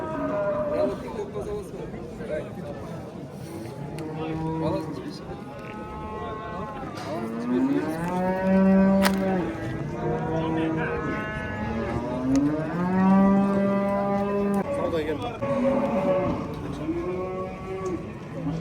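Cows low repeatedly at a livestock market, several long drawn-out moos rising and falling one after another, fairly close and loud over a background of murmuring voices and market bustle.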